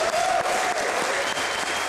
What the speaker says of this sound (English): another round of applause for this fine band right here